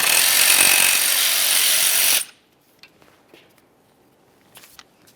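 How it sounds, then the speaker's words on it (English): Power tool spinning off a 13mm brake caliper slider bolt on a Dodge Dakota, a loud steady whir for about two seconds that stops abruptly, followed by faint metallic clicks and handling sounds. "we're going to continue on to removing each of our 13mm caliper slider mounting bolts"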